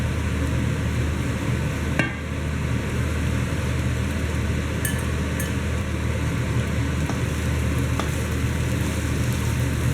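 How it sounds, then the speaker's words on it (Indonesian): Eggplant and spring onions with balado chili paste sizzle steadily in a hot pan while being stirred slowly, a continuous frying hiss with occasional sharp scrapes and clinks of the utensil against the pan. "Aduk perlahan dan lanjutkan memasak sebentar sehingga seluruh bahan tercampur dan panasnya merata."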